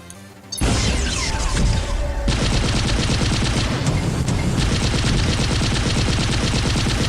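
A machine gun in the game Choke Point fires in a dense, continuous burst after a brief quiet start, rapid loud shots running without pause to the end.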